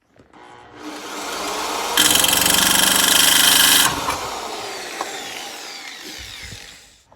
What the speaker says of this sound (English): because you are drilling through steel